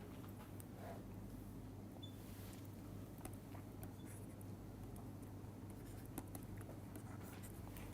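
Equations are written down during a physics lecture, faint scattered scratching and tapping strokes over a steady low hum, very quiet and close.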